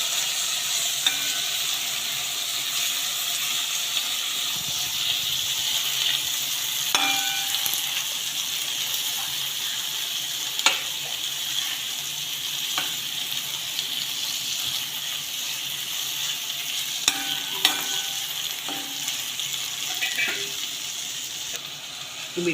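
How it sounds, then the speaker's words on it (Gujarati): Green peas being stirred into poha in a hot pan, a steady close frying hiss with repeated sharp spoon scrapes and clinks against the pan, no voices. "લીલા વટાણા નાખીશું, બધું જ મિક્સ કરીને હલાવી દઈશું."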